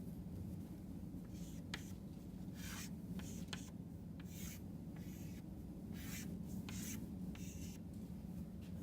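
Chalk or a pen scratches out a diagram on a lecture-hall board in short, repeated rubbing strokes, faint and low over a steady room hum, with no talk.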